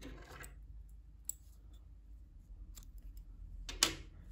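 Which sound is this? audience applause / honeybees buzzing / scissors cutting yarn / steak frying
scissors cutting yarn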